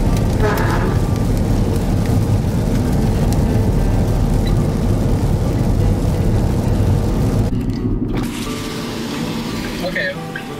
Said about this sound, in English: that is the rain